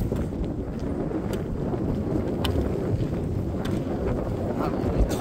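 Strong wind blows across open hills in Albania where goats graze, a constant low roar buffeting the microphone, loud and unbroken, with faint scattered clicks and no clear speech.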